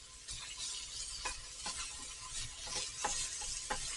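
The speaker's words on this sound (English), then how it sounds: "brown it in batches because you don't want your Instant Pot to cool down too quick" Beef browning in batches in an Instant Pot for a beef stew, giving a steady low sizzle under intermittent scrapes and stirring knocks, moderately faint and close.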